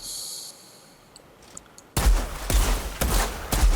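A rifle fires in a PC shooter video game: a few quiet clicks first, then loud close bursts of gunfire in rapid repeated shots for the final couple of seconds.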